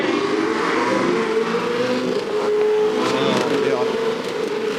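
A Supercars race car engine drones at high revs, a steady whining roar that rises slightly, with a voice talking faintly underneath.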